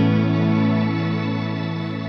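Strymon BigSky shimmer reverb with the tone turned all the way down, heard as a smooth, steady sustained pad of layered tones that fades slightly over about two seconds, without harsh top end and with no talking.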